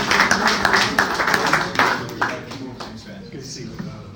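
A round of clapping at a Century Club meeting welcomes Scott Meyer, a past president, with a brief burst of applause fading after about two seconds as talk begins.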